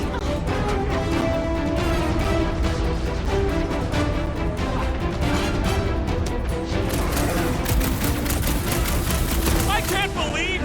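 Dense, continuous gunfire and blasts in the video game Guardians of the Galaxy ring out in rapid bursts over a busy mix of game sound and music, with voices talking throughout.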